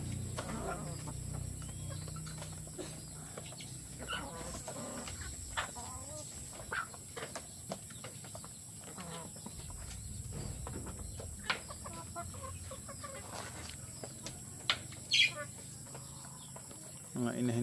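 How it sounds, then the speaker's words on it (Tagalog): Hens cluck and call in scattered bursts, close by, with occasional faint voices in the background. "Mga inahin po yan."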